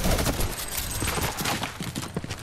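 Video game minigun firing in a dense, continuous rattling stream, loud and unbroken across the whole moment.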